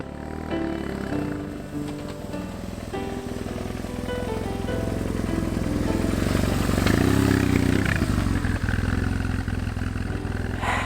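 A BMW R1150GS boxer-twin motorcycle engine runs steadily nearby, its low throbbing rising in revs partway through before settling back.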